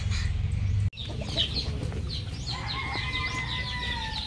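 Pure Sweater breed gamefowl chickens in breeding pens, with repeated clucks and calls from several birds, fairly close, over a steady background hum after a brief handling noise at the start.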